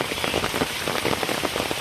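Steady rain falls hard on a rural homestead where cows are kept, making a loud, continuous hiss with dense patter on surfaces and no voices.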